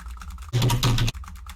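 A brief burst of computer keyboard clicks as the shift key is hit repeatedly to bring up sticky keys, close and loud for about half a second between quieter moments.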